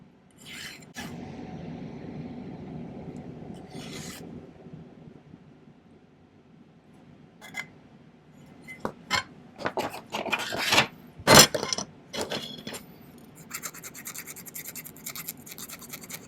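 A metal file tapers the outside edge of a silver pillar prong setting: a few rasping strokes early on, then a denser run of sharp scraping bursts, close and fairly quiet.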